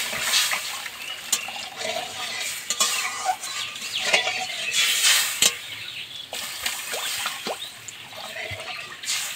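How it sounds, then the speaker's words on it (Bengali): Water goes into a pan of fried spices for a kuche fish curry, followed by sizzling, bubbling and clinks of a spoon against the pan, close and moderately loud. "জল দিয়ে দিলাম।"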